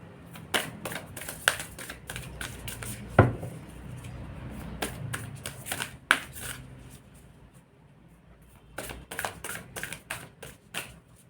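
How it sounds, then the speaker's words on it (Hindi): Tarot cards are shuffled by hand in a run of quick, crisp riffling flicks and taps, with irregular bursts of rustle close to the mic in an otherwise quiet room and no talking. "एक न्यूमरोलॉजी से कार्ड लेते हैं।"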